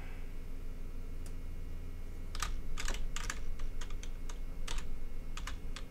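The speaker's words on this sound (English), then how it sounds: "You go ahead and type in your username and your password." A username and password are typed on a computer keyboard: a quick, close run of crisp key clicks in uneven bursts over a steady low room hum, with no voices.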